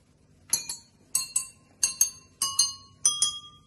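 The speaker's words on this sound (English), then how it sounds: "Today I am going to show you Jaltarang, which is based on sound effects." A jaltarang played on glasses filled with different water levels gives five pairs of bright, ringing glass strikes, each pair quickly following the last, close and clear in a quiet room.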